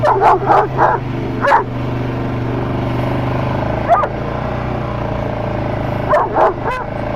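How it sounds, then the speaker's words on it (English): A dog barks loudly in bursts, several quick yips at the start, one more midway, and another cluster at the end over a low engine hum. "I don't know what he's barking at."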